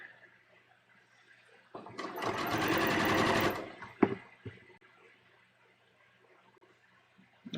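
A sewing machine stitches a bias-cut V-neckline on a dress in one steady, close burst of about two seconds, with quiet fabric handling before and after.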